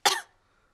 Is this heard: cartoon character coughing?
yes